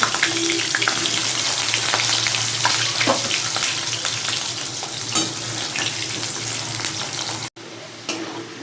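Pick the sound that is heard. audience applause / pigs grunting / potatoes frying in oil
potatoes frying in oil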